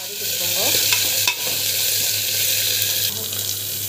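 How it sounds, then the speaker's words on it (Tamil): Chana dal and garlic sautéing in a hot pan: a steady close sizzle with a few stirring scrapes and clinks over a low hum, no one talking. "ஆட் பண்ணி நல்லா வந்து வதக்கிட்டுக்கோங்க"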